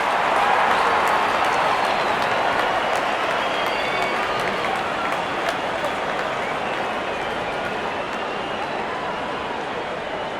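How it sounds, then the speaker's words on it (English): A stadium crowd at an India vs Sri Lanka cricket match applauds a batsman's fifty, producing dense, sustained clapping and cheering that fills the whole stretch and fades only slightly toward the end. "Wonderful 50 and the crowd applauds."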